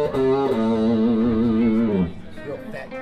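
Electric guitar played through a Fender Pawn Shop Special Excelsior amplifier, using the bridge pickup with treble rolled back, rings out a fat, sustained distorted chord for about two seconds, then decays into quieter notes.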